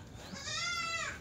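A goat gives a single loud, wavering bleat close by at a goat market selling Kathiawadi goats, with a low background murmur.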